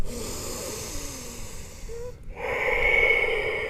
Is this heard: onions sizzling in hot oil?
no